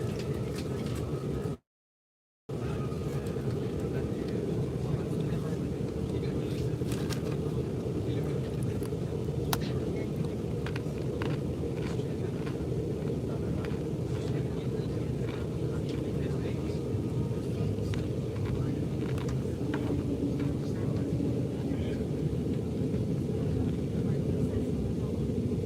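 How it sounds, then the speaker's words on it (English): A train passes close by at a rail yard in Cicero, Illinois, heard from aboard the Amtrak Illinois Zephyr. It makes a continuous, even rumble with a steady roar that holds for the whole stretch. "This train may block our view for a minute."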